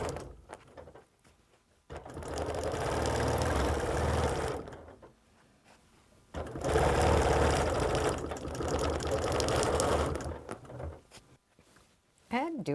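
Sewing machine stitching a circle while quilting, running in two long, steady mechanical bursts separated by a pause, close and fairly loud, with a voice speaking briefly in the gaps.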